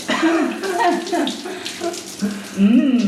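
Shower water streams steadily at close range after a hot day of bike touring in Cambodia, with a voice talking and exclaiming over the running water.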